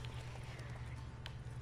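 Horse hooves clip-clopping during horseback riding in The Witcher 3: Wild Hunt, a quick, regular beat of hoof falls over a low rumbling game soundscape, with faint speech-like sound beneath.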